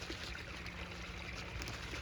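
Creek water flowing through woods, a faint steady rush and trickle with no distinct splashes and no voices.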